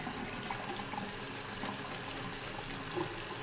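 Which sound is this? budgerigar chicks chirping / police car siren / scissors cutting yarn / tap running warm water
tap running warm water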